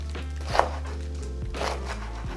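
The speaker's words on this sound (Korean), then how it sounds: "1cm 조금 안 되게 채를 썰어주세요." A knife slices ingredients into thin strips, just under a centimetre wide, for a Korean acorn jelly salad: a handful of separate chopping thunks on a board, spaced irregularly over a steady low hum, with no talking.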